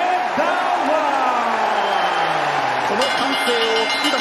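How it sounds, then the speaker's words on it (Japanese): A large arena crowd at a WBC bantamweight world title boxing match cheers and roars for the defending champion, loud sustained yelling and whooping with an announcer's voice over it. "この歓声を聞きなさい。"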